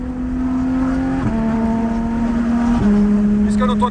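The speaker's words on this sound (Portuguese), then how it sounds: "Mano, o ronco dessa GT3." Porsche GT3 engine rumbling at an easy cruise, a close, steady droning note that shifts down in pitch twice as gears change, with a brief higher whine near the end.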